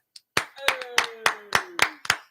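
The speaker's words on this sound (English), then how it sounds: "a round of applause to my guest, Kuya Kurt" Applause at a live interview: a short run of about eight sharp, evenly spaced hand claps, close and fairly loud, with a faint voice carrying underneath.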